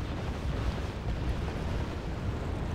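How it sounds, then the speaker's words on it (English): Continuous deep artillery barrage rumbling in the Wargame Red Dragon strategy game, a dense low roar of explosions blending together, steady and loud throughout with no voices. "More artillery is going in."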